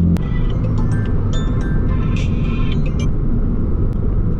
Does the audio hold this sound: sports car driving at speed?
yes